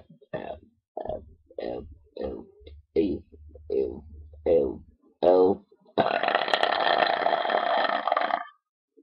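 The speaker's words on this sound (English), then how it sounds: "Oh no, I'm still burping." A run of short, loud burps comes one after another, followed by a long, rasping drawn-out burp at the end, close and dry with no other sounds.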